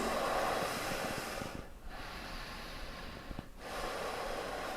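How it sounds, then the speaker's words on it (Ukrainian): Deep, steady breaths drawn in and out through the nose during a yoga session, two slow breath cycles sounding close and soft with brief pauses between them, no talking. "Дихаємо глибоко через ніс."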